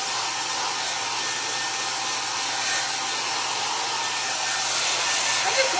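A hair dryer blows steadily at close range, drying fresh paint on a primitive vintage Christmas sewing drawer being built by hand; the broadband whoosh runs unbroken throughout with no voices.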